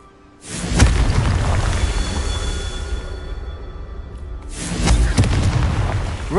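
Confringo fire spell explosions go off in the video game Hogwarts Legacy: two deep booming blasts, each followed by a long rumbling roar with crackle, loud and close.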